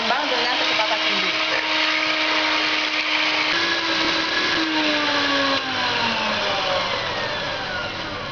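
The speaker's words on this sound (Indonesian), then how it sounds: "Lalu kocok telur selama 2 menit lebih kurang sampai mengembang dengan kecepatan tinggi." An electric mixer beats eggs at high speed for a bakery's production, giving a loud, continuous whirring drone close up with slight shifts in pitch.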